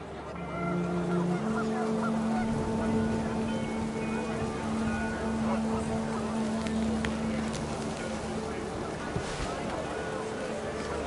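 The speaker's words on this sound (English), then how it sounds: "The wind picked up, and panicked geese appeared and quickly went." Video game sound: panicked geese honk loudly over a steady wash of rain and wind noise, with a sustained droning tone running through most of the stretch.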